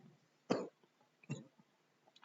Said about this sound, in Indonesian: Oke, sorry batuk.